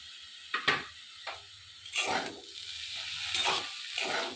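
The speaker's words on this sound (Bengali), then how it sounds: "এখানে যে আমি সজনা ফুলগুলো নিয়ে ধুয়ে রেখে দিয়েছিলাম এগুলো আমি ঢেলে দিলাম।" Washed drumstick flowers poured into a hot pan with potato and fried, giving several bursts of sizzling and stirring scrapes, close and moderately loud with short pauses between.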